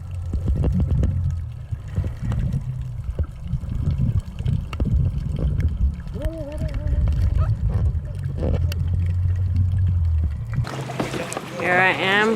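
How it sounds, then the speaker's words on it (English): Paddle strokes and water splashing from a kayak off Genovesa Island in the Galapagos, a steady wet churn under wind and boat noise, with voices talking over it. "Here I am kayaking."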